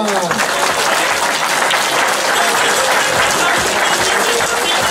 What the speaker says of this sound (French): Et les applaudissements du public.